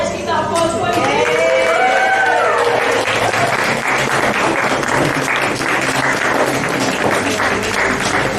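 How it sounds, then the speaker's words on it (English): Wedding guests at a festival ceremony clap and cheer in a full, sustained round of applause, with a few whoops and voices rising over the steady clatter of hands. "Let's keep that applause going."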